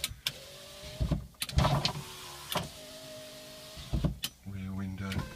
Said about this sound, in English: All the windows work.